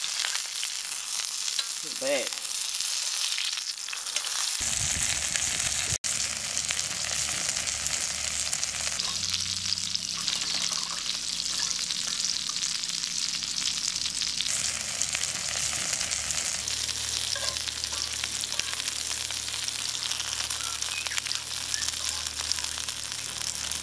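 Crumbed venison pieces fry in a pan with a steady, close sizzle throughout, broken by brief scrapes and stirring movements; a voice speaks briefly early on.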